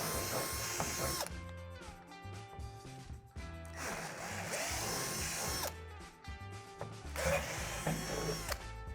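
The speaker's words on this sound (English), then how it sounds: "locate the 3 divots and drill them out with a 3/8 drill bit" A power drill with a 3/8 drill bit bores out divots on the underside of a climbing tower deck, whirring in several bursts separated by short pauses.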